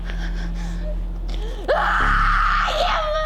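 An actor screams loudly on a film set, a gasping, strained cry rising into a sustained, wailing scream after earlier voices and breathy sounds.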